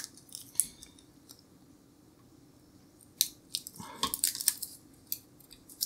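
Small snips from cutters trimming a wire back inside a Sega Mega Drive under repair give quiet, close clicks, a few scattered and then a quick cluster of sharp snaps over a near-silent bench.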